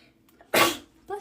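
A single sharp, breathy sneeze bursts out in a quiet room, followed by the start of a short spoken reply.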